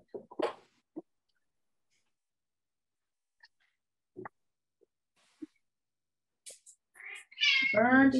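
A house cat meows indoors, with a short close cry at the start and a longer, louder drawn-out meow at the end, separated by near silence and a few faint clicks.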